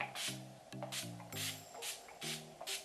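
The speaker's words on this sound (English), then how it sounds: "I'm going to be using the All Nighter Setting Spray by Urban Decay." Urban Decay All Nighter setting spray misted onto a face to finish bridal makeup: several quick, close hissing bursts spaced across the moment, over a soft tonal background.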